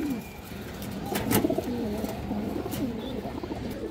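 A lively, violet-coloured pigeon coos in low, throaty rolling phrases up close, with faint rustling around it.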